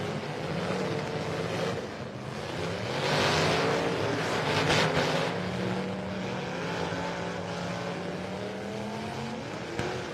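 Demolition derby cars circle and jockey for position at the Midwest Mayhem event, a continuous rumbling engine roar with revving swells, close and steady throughout.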